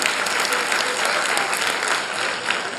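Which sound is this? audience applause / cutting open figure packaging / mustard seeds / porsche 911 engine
audience applause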